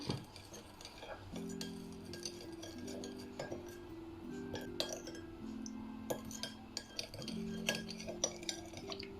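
A spoon stirs sweet chili sauce, sugar and other sauce ingredients in a glass bowl, clinking against the sides in quick repeated taps with faint scraping and liquid sloshing, close and fairly quiet.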